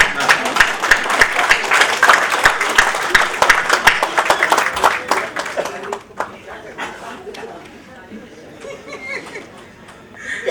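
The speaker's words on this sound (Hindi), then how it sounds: "ताली बजाओ, जब तक डायरी ले लूंगा" An audience at a Hindi comedy poetry gathering claps loudly and densely for about six seconds, then the applause thins out into scattered claps and murmuring chatter.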